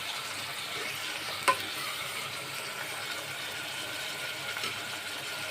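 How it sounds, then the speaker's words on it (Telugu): Onions fry in a pan until golden brown for a dry mutton curry, giving a steady close sizzle with a couple of soft clinks of the spoon as they are stirred. "ఒకసారి కలిపేస్తున్నాను ఇలా మంచి గోల్డెన్ బ్రౌన్ కలర్లోకి ఆనియన్స్ రావాలండి"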